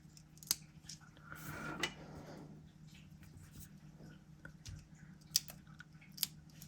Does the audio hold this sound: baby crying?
no